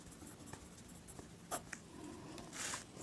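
Chalk or marker scratching out a topic on a board during a maths lesson, with soft, uneven strokes and taps at close range and no talking.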